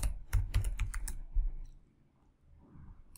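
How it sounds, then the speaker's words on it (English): A user name typed on a computer keyboard: a quick burst of close, crisp key clicks that stops after about a second and a half, leaving quiet room tone. "what you can do is you type a name of"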